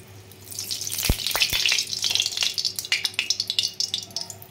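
Taro pieces frying in mustard oil, a loud, crackling sizzle that swells as they hit the oil, with a few sharp pops and clinks near the start, then settles into uneven spitting.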